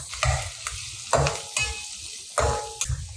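Onions fry with turmeric in a pan for an akkha masoor curry. A spoon stirs and scrapes in uneven strokes over a soft, continuous sizzle, close up and with no voices.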